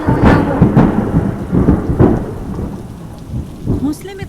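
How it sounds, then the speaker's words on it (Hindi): Rain pours steadily in a cartoon scene, with several loud, rumbling thunder claps breaking through at irregular intervals over the continuous downpour. "बस बारिश की आवाज"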